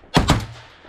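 A single shotgun blast aimed at teal on a duck hunt, loud and sharp with a quick second crack folded into the echo, then a short decaying tail.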